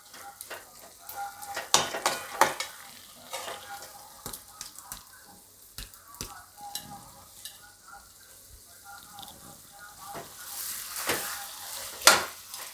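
Vegetable curry gravy being stirred in a pan, with scattered scraping and clinking strokes of the spoon against the metal over a soft sizzle, moderately close and irregular.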